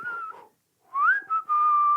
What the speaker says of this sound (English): I can do an out whistle or an in whistle.